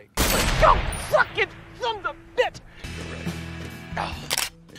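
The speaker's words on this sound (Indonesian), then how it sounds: "Dan setelah sang kartel tumbang, Bobby menembak paha Stick sebagai bentuk balas dendam" Gunfire from the 2013 action film 2 Guns: a loud, reverberant burst of shots and sharp cracks mixed with film soundtrack tones and mechanical clatter, followed by another short volley.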